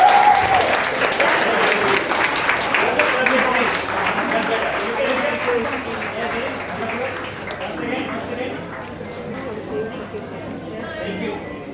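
Audience applause at a young authors' book launch, sustained loud clapping from a room full of people, fading slightly over time, with some chatter mixed in.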